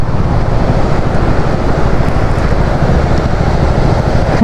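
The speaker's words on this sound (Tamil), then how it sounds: "எவ்வளோ தண்ணி ஓடுது" Loud, steady rush of monsoon floodwater flowing under a forest bridge in rain, a dense broadband roar with no pauses and no voices.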